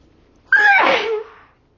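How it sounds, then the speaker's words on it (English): A woman sneezes once, close and loud, with a quick rising breath leading into the burst before it fades to quiet. "sometimes I just like randomly sneeze quite a lot in a row"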